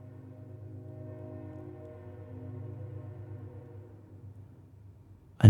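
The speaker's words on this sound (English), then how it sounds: "but there is a train coming." A low, steady rumble of a distant train builds gently and fades over several seconds, ending with a sudden loud bump.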